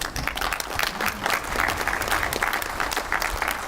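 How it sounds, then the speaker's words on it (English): Steady applause from a seated audience at a regional workshop in Shillong, many hands clapping densely and evenly for the NERCOM team, close and continuous. "We want to applaud you."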